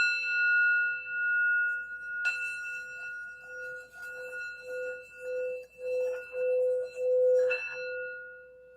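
A small sound bell used before a tarot reading is struck and rings out with clear, sustained metallic tones, with fresh strikes near the start and again toward the end while the earlier ring fades.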